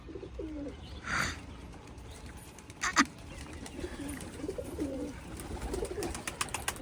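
Pigeons cooing at a rooftop loft in the evening, soft low rolling coos repeated at a moderate distance, with a couple of brief sharper calls and faint background chirps.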